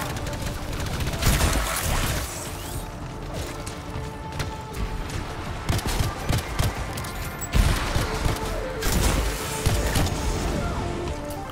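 Rapid gunfire from a weapon in the video game Anthem, dense bursts of shots clattering loudly through most of the span amid mechanical game noise, with a heavier barrage near the end.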